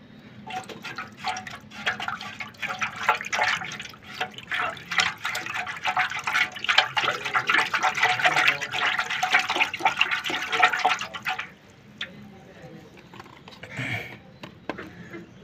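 Medicine poured into chickens' drinking water and mixed in. Water splashes and gurgles steadily, building to a busy churning for several seconds before tapering off to quiet dripping.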